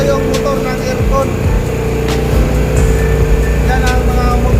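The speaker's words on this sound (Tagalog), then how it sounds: "Yan ang mga motor ng aircon." Three air conditioner motors running steadily in an engine and control room area, a loud continuous mechanical hum with layered tones and rumble throughout, with faint voices in the background.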